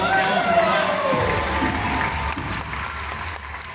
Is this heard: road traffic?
no